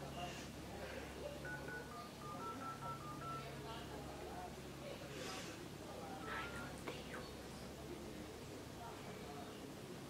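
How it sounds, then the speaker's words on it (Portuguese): Quiet run of telephone keypad tones as a call is dialled, short beeps in a stepped sequence under soft background noise and murmured voices. "Vou ligar de novo."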